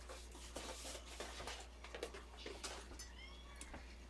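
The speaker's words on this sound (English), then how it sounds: "The meowing is the backdoor cat." A cat meows repeatedly near a back door, several short, high, wavering calls spread over a few seconds, faint against a steady low hum and soft shuffling sounds.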